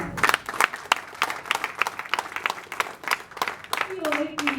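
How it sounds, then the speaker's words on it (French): A conference audience claps in a lively burst, quick irregular handclaps from a modest crowd ringing out close and sharp, with a voice starting to speak over the tail end. "j'aimerais que vous applaudissiez encore franchement pour ce que Patrick vient de nous dire"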